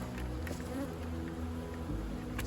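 A dense cluster of honeybees filling about five and a half frames in a spring beehive gives off a steady, close, continuous hum and buzz, with no talking.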